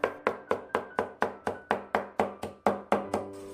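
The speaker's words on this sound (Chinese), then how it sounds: "再给它剁得碎一点，吃起来口感会更好" Close, steady knife blows mince spinach finer on a cutting board, about fourteen crisp, evenly spaced knocks in a regular rhythm, each decaying quickly, with no talking.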